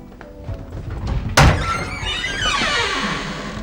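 A door thunks shut with a single loud, close impact, followed by a lingering rumble and swell of background sound.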